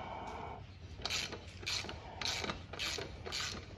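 A hand wrench loosens the brake caliper bracket bolt on a small-wheeled dirt bike, giving five repeated ratcheting creaks in a steady rhythm, close and moderately loud over a low background hum.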